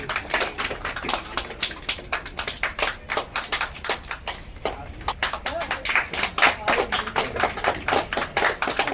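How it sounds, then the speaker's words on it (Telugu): Steady applause from a crowd at a birthday celebration event, dense overlapping claps continuing throughout at an even, moderately loud level. "మళ్ళా చప్పట్లు"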